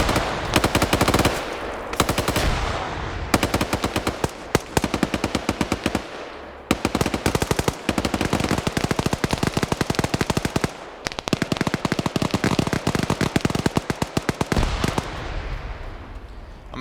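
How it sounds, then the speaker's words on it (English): Sustained machine gun fire in Arma 3 during a PvP tournament match, loud and close, coming in long rapid bursts with brief pauses between them and no talking over it. "Allen taking fire from the Overwatch position now."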